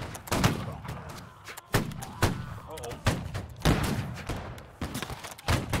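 Musket fire in a line battle in the Holdfast: Nations At War video game, with loud sharp shots cracking at irregular intervals and overlapping like a ragged volley, while voices talk between and under the reports.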